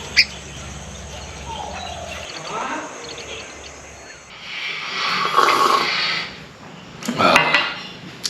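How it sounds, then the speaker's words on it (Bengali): Birds perched on bamboo tips chirp in short, scattered bursts on a quiet winter evening, with faint clinking and muffled voices at times. "ওই যে বাঁশের ডগায় ডগায় পাখিগুলো সব বসে আছে"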